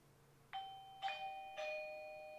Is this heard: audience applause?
no